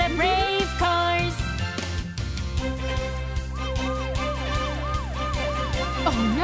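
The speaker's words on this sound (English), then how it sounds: "The brave police car is on the way." A police car siren wails in a repeating up-and-down pattern inside a children's nursery-rhyme cartoon song. Music and a low beat play under it, and the siren is loud and near.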